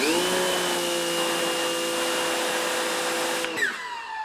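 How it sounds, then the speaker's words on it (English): A Teande smart electric pressure washer rated 3800 psi and 2.8 gpm runs with a loud, steady motor whine and pump hum, then its pitch drops and it winds down near the end when the trigger is released. "it's producing the amount of power as like your standard electric pressure washer would"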